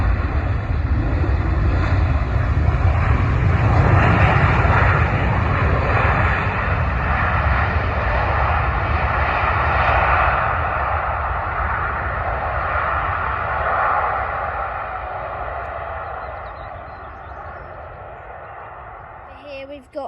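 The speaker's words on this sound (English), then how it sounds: "Here we've got a Ryanair Boeing 737 MAX, and it's landing, it's coming in from Gran Canaria." Ryanair Boeing 737 MAX landing at London Stansted, a loud jet engine roar that peaks early and slowly fades as the aircraft passes, with wind buffeting the microphone.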